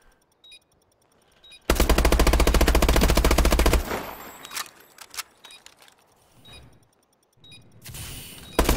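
Gunfire from Call of Duty: Advanced Warfare in a 1v1 match: a long, loud, rapid automatic burst, then scattered shots, clicks and clatter, and another burst near the end.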